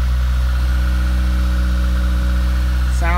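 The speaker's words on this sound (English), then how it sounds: "I like the way the exhaust sounds." A 1989 Toyota MR2's four-cylinder engine runs with a steady, deep exhaust rumble, loud and close, with a person starting to speak over it at the very end.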